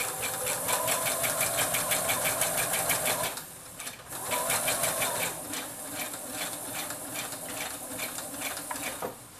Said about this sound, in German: Und dann könnt ihr auch schon loslegen mit dem Nähen.